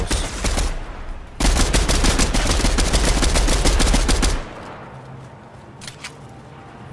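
Rapid automatic gunfire in Fortnite rattles loudly in a dense burst lasting a few seconds, then stops, leaving quieter game ambience with a couple of faint distant shots.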